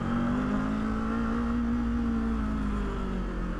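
A 2026 Kawasaki Z500 SE motorcycle engine pulls uphill in first gear, a steady, close droning hum that holds its pitch, moderately loud with no talking.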